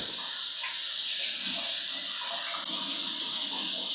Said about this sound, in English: So we'll make sure our water's cold. And rinse them off real good.